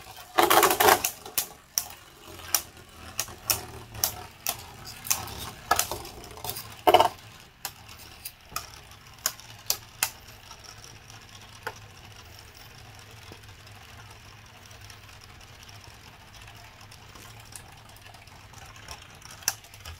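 Beyblade Burst Turbo spinning tops, including Turbo Z Achilles, clashing in a stadium: a burst of sharp rapid clicks and knocks at launch, then sparser hits thinning into a faint spinning whir.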